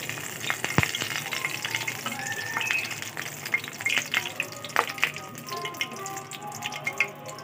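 Whole garam masala and bay leaves fry in hot oil for chicken korma, crackling and popping in quick irregular bursts over a soft close sizzle.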